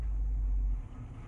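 A Tesla creeping forward under camera-only Autopark while parking between two closely spaced cars, heard as a low, steady rumble from inside the car that eases off toward the end.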